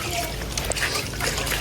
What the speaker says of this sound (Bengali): শিন আবার এদিকে গোসল করতেছে